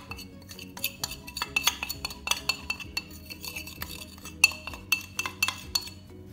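A spoon clinks and scrapes against a bowl as seasoning ingredients for lamb shoulder, including oil, garlic and parsley, are mixed, giving quiet, irregular taps and chimes up close without speech.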